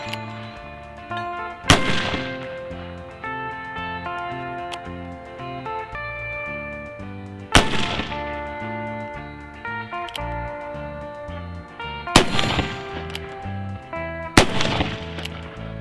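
Loud sharp gunshots from a Remington 1858 black powder revolver, four widely spaced reports over a steady musical background, each with a ringing decay.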